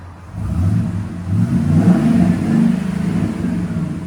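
A Ford F250 6.2L V8 with a Flowmaster exhaust revs up from idle, its deep, loud exhaust note swelling and holding near a steady roar for several seconds, close by and alone.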